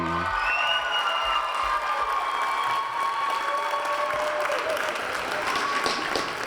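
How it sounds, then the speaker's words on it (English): Crowd applause at a girls' high school basketball game in a gym, a continuous, even roar of clapping held steady throughout, with occasional whistle-like cheers and a faint public-address voice underneath. "please give a round of applause for number 40, Juliana Harrison."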